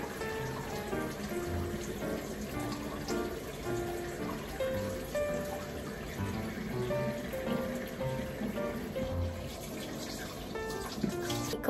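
Tap water runs steadily while a face is rinsed with cold water after washing, a soft continuous splashing wash that holds throughout at moderate level, with faint tonal sounds in the background.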